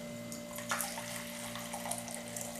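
Tap water running steadily into a pot for making coconut milk from dried shredded coconut, a continuous splashing pour close by over a low electrical hum.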